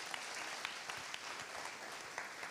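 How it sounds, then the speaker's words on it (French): Audience at a lottery draw event applauds, a soft, distant, continuous patter of many hands clapping with occasional sharper claps. "Merci d'applaudir, s'il vous plaît"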